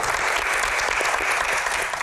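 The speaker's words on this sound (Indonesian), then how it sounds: "Widih, tepuk tangan dulu dong." Audience applause at a youth Q&A forum, dense and steady clapping filling the whole stretch with no break, loud and close.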